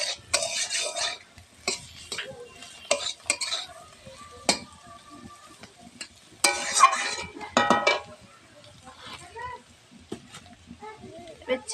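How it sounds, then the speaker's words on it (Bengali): Spoon scraping and clinking in a pan while washed flattened rice (chira) is stirred with turmeric, irregular close bursts of stirring separated by quiet gaps, with a faint voice here and there. "এর মধ্যে আমি একটু হলুদ দিয়ে দেব। এটা ভালো করে একটু নেড়ে নেব।"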